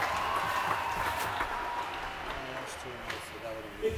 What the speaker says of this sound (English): How about a nice round of applause for both teams?